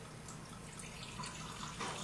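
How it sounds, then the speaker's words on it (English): 151 rum being poured into a skull mug, a continuous trickling, splashing liquid stream, close and fairly quiet, lasting about two seconds with no voice over it. "pour it into the skull mug like this,"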